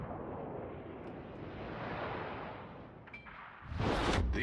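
Destroyer guns open fire at a target in a naval video game, a long rumbling roar of distant gunfire and shell noise that swells, then a heavier close blast bursts near the end.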